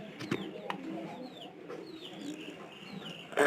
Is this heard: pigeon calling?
yes